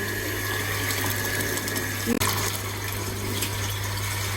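Water pours steadily from a tap into a tank, a continuous rushing splash with a low hum beneath, briefly interrupted by a knock near the middle.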